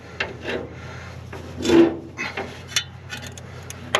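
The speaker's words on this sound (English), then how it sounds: "dragging the socket wrench along something" Scattered scraping and rasping of a socket wrench being dragged across metal in an old van engine, with a few light clanks, close by and moderately quiet.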